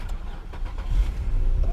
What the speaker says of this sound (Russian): Так, сейчас заведем эту машинку.